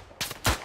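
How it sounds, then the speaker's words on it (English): Two quick, sharp gunshots a fraction of a second apart from German soldiers in the World War I first-person shooter Tannenberg, fairly loud with nothing else heard around them. "Germans are shooting at me also"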